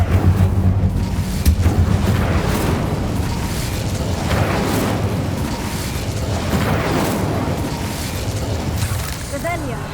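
Incendio fire spell cast in Hogwarts Legacy, heard as a dense, loud burst of whooshing flame and rumbling booms that hold steady for the whole stretch amid game effects, with a voice faintly present underneath.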